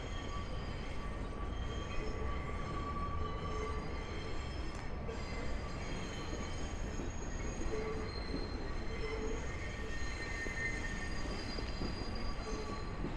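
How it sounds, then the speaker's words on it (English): N line subway trains rumble past in Brooklyn, a steady loud roar of rail cars with wheel squeal and metallic tones running throughout, no voices. "Well, you'll always hear trains down here, so you could hear them right now."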